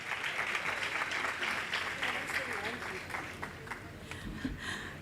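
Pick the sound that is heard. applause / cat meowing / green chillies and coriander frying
applause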